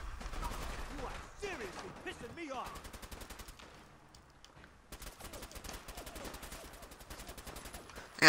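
Rapid bursts of gunfire in Fallout 4 aimed at super mutants, volleys repeating through most of the stretch with a brief lull midway, while someone shouts over the shots.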